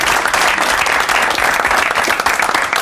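Dense, loud audience applause in a studio for a Czech entertainment show, continuous and close throughout with no pauses.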